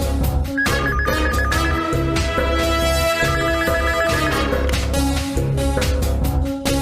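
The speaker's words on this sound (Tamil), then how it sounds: "இப்ப வடிவுக்கு ஃபோன் பண்ணணும்" A telephone rings repeatedly after a call is placed in a Tamil television serial scene, its ringtone bursts sounding in two spells over loud, continuous background music.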